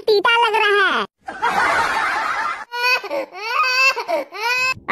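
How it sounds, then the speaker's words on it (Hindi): A cartoon child cries in loud, wavering wails broken by short pauses and a noisy breathy burst, with no other voices. "ये रोने की आवाज कहाँ से आ रही है?"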